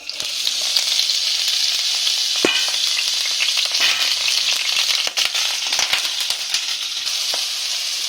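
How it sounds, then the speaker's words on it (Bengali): Potatoes fry in mustard oil in a wok, giving a loud, steady, close sizzle that runs unbroken throughout, with a few sharper crackles and pops over the constant hiss. "দিয়ে আমি এখন যেটা করব সেটা হচ্ছে এই যে আলুগুলোকে আমি ভেজে নেব"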